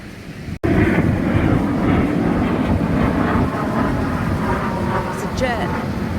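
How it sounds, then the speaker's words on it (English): A jet aircraft passes high over the Torrey Pines Nature Reserve trail in San Diego. Its low, steady roar lasts the whole time, sounds distant and fairly loud, and comes with no talking. "a jet in the sky."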